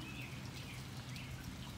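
Rain falls outdoors around a 1981 Mercury Capri under restoration, a steady dense patter of drops on surfaces with a faint bird chirp or two in the background, uninterrupted and without voices.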